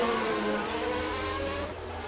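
F1 race cars in a racing game at the Mexican Grand Prix roar at high revs, their engine notes layered and shifting in pitch as one car passes another. The sound is loud and steady.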